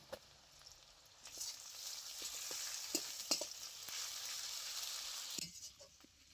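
Onion, ginger and garlic paste fry in a pan for a shrimp and Malabar spinach dish, giving a soft continuous sizzle broken by scattered clinks and scrapes of stirring, fairly quiet and with no talking.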